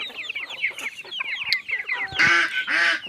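Several chickens cluck and chatter nearby in quick, uneven bursts, ending with a couple of louder, drawn-out squawks.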